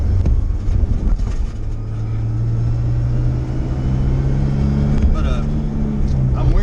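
A car's loud engine rumble and road roar fill the cabin, with bumpy rattling jolts as it crosses tracks while someone talks over the noise.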